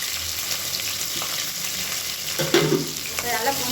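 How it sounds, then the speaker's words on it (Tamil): Long-sliced onions, green chilies and mint leaves sautéing in oil, a soft continuous sizzle with a few stirring scrapes and clinks near the end, fairly quiet and close. "இப்போ நல்லா பொன்னிறமாக வதக்கிக்கலாம்."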